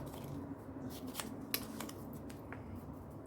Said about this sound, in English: I'm just going to trim that off with my guillotine